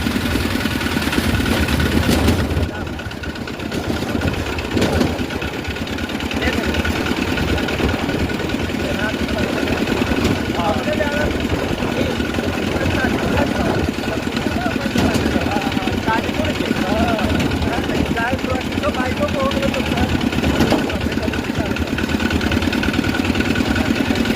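A vehicle engine, just back from a self-starter repair, idles in a steady, continuous rumble up close for the whole stretch, with faint background voices.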